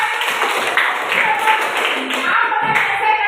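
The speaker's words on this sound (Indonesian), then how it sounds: "Tepuk tangan dulu." Classroom applause, a steady spatter of hand claps from a group of students sustained throughout, fairly loud and close, with faint voices mixed in.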